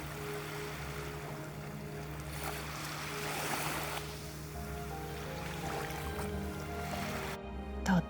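Gentle sea waves wash steadily onto a quiet, empty beach, a soft continuous surf with light wind noise and no voices.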